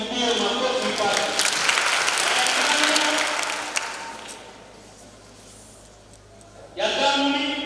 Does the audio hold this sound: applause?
yes